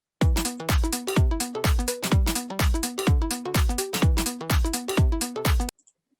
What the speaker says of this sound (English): And the up loop sounds like this.